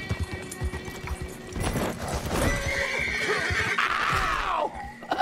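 A horse whinnies loudly and close in Red Dead Redemption 2, a long rising-falling neigh near the end, with clip-clop hooves and scuffling across the whole stretch.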